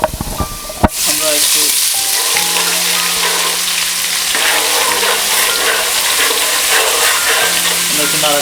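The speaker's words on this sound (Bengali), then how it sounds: "একটু নাড়াচাড়া করে দিলাম" Meat pilaf frying in a pot over lowered heat, stirred steadily so it won't catch, giving a continuous close sizzle with scraping and shuffling stir sounds after a sharp clatter at the start.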